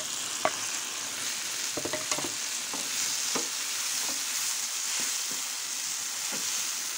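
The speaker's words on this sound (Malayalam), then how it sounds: "ഇതിലേക്ക് നമുക്ക് ടൊമാറ്റോ ആഡ് ചെയ്യാം." Tomato added to masala frying in a pan for bitter gourd masala, a steady loud sizzle with scattered clinks and scrapes of stirring, close up and without talk.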